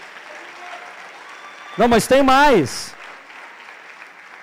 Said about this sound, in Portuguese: Aleluia, pode aplaudir.